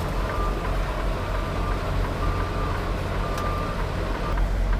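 A truck backing toward a fifth-wheel trailer, its steady engine rumble and broadband noise filling the scene while faint, intermittent reversing beeps sound over it.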